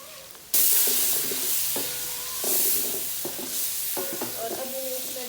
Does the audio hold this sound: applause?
no